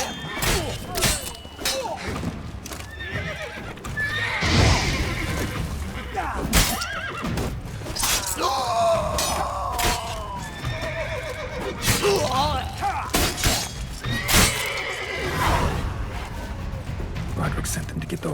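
Horses neigh and whinny repeatedly in The Witcher 3: Wild Hunt, loud and close, with hoof clip-clops, thuds and game effects mixed in as voices speak intermittently over the commotion.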